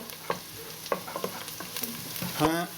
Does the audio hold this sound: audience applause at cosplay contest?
no